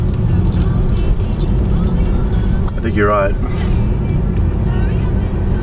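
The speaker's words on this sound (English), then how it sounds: "There's just way too many cars here." Busy car traffic on Highway 1 by Hearst Castle near San Simon, with a bus among the vehicles; a steady, loud roar of engines and tyres fills the scene while a voice speaks briefly over it.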